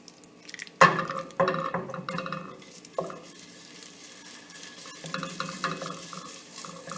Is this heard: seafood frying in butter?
yes